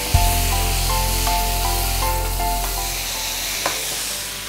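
Prawns hit a hot pan for a Kerala prawn curry with a sudden thump, then a loud continuous sizzle and a few light stirring taps, with a faint repeating tonal hum in the background.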